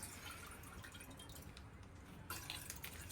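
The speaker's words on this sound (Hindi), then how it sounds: "यहाँ पे मैं सबसे पहले डालती हूँ मिल्क।" Milk poured into a container to make sharbat, a soft, quiet liquid trickle and drip heard close up and alone, growing slightly louder near the end.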